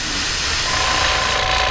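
Paint spray gun running at about 10 PSI during a repaint, a loud, steady broadband hiss that fills the whole short stretch without a break, with no talking over it.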